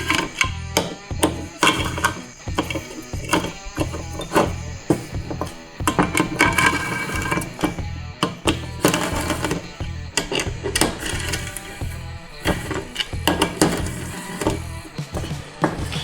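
Bolts on the valve body filter of a Ford C4 automatic transmission are tightened with a ratchet, giving rapid repeated clicking and metallic ticks in uneven bursts close by, with no speech.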